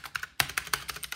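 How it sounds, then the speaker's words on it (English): Quick clacking keystrokes on an 89-key mechanical keyboard up close, about a dozen sharp taps in an uneven typing rhythm. "Mechanical keyboard."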